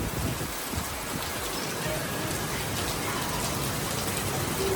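Rain falls on a street in Vietnam as a steady, broad hiss that continues evenly and fairly loud throughout, with faint voices beneath.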